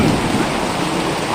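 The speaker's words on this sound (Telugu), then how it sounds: "ఫుల్ వర్షం." Heavy rain pours steadily near the Simhachalam temple steps, a loud dense wash of noise with a low rumble that may be thunder underneath.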